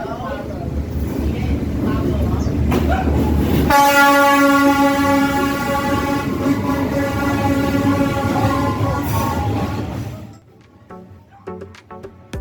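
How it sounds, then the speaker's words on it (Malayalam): A train rolls past very close on Hanoi Train Street, with a steady loud rumble, a long sustained horn blast through the middle, then the noise drops away as people's voices remain. "ട്രെയിൻ നമ്മുടെ ഇത്ര അടുത്താണ് പോകുന്നത്."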